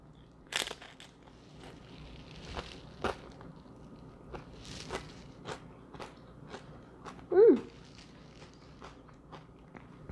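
Crunchy bites into a tortilla chip topped with honey mango salsa, several sharp crunches and chewing spread across a quiet room, with one louder crunch near the end.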